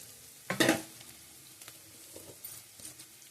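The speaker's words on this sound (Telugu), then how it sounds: "కొద్దిగా మనకి ఉల్లిపాయ కొంచెం మగ్గనిద్దాం" Onion softening in a pan for semiya upma, a quiet low sizzle broken by one sharp scraping stir near the start and a few lighter clinks afterward, close by with no voices.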